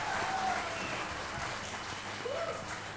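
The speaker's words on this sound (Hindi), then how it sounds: "तो जोरदार तालियों के साथ" Steady applause from a crowd at a school cultural program after a tabla and pakhawaj performance, a dense even patter of clapping that holds at a moderate level throughout.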